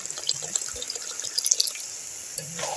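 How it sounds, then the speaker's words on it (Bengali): Water pours into a pan of Bengali banana flower curry with potatoes and chickpeas, a close steady splashing trickle with a few brighter drips. "জল দিয়ে দেব।"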